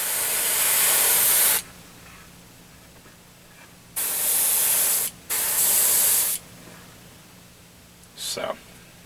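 A Revell Chrome Spray rattle can sprays in sharp, close hissing bursts: a long one, then two in quick succession, then a brief final puff, with quiet gaps between.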